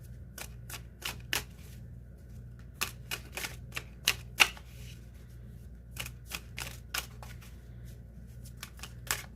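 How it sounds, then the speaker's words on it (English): Clusters of sharp, snappy tarot card riffles in quick bursts with brief pauses, close and clear over a low steady hum. "I'm going to go ahead and shuffle some of my decks"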